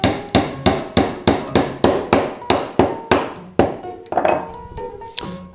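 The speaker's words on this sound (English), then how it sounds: "And now I will be able to hammer the nails in." Nails are hammered into joined wooden boards: a fast, even run of about fifteen loud, sharp strikes close to the mic, each ringing briefly, then a few more uneven blows toward the end.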